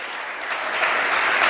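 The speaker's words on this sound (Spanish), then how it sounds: "Le dan un aplauso al Señor." A church congregation at a Spanish-language general worship meeting breaks into applause, a dense wash of clapping that swells slightly louder over the short stretch, with no voices over it.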